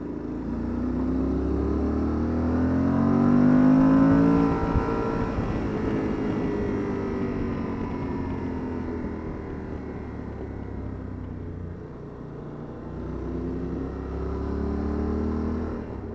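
Yamaha XTZ 1200 motorcycle engine revs up and down nearby, rising sweeps of exhaust note swelling to a loud peak, easing to a steady drone, then building again toward the end.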